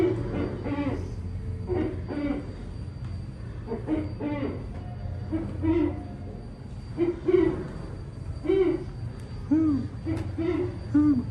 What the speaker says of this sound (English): Is that a barred owl?